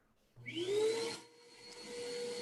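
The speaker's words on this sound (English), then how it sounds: "Sounds like someone's using their vacuum cleaner." A vacuum cleaner switches on nearby, its motor whine climbing in pitch and then holding a steady, loud hum with a high-pitched tone.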